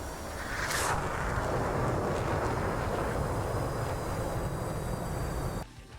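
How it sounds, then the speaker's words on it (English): An F/A-18C jet makes a low pass over an aircraft carrier in the DCS flight simulator, a loud, steady broadband roar that sweeps past early and cuts off abruptly near the end. "here's a low pass over the carrier"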